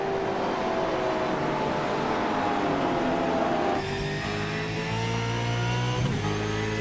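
V8 race cars hum and whine steadily through a final lap of an iRacing race, engine tones rising and shifting as cars run close together, with a gear change partway through.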